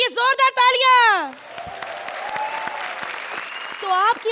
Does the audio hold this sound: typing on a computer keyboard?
no